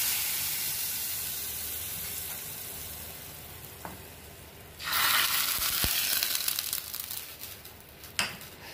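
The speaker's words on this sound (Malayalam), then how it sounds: "ഈ കറിയുടെ മുകളിലേക്ക് ഞാൻ ഈ താളിച്ചത് ഒഴിച്ചു കൊടുക്കുകയാണ്." A hot tempering is poured over Kerala egg curry, and a sudden loud, close sizzle bursts in halfway through after a quieter frying hiss, crackling on and fading slightly, with a sharp clink near the end.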